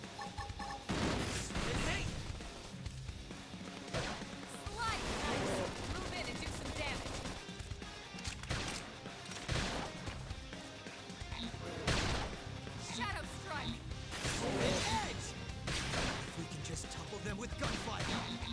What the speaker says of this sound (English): There's someone with gunfire.